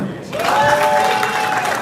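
Crowd applause swells and continues, dense clapping with cheering voices mixed in, loud and close, at a rave event in Kampala, Uganda.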